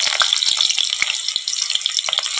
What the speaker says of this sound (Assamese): এতিয়া মই ইয়াতে দি দিম পিঁয়াজখিনি